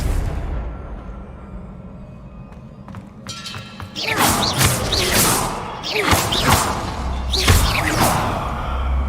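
Confringo fire spell blasts in Hogwarts Legacy: a quiet stretch, then a series of loud whooshing bursts and heavy thuds in quick succession, each flaring up and fading.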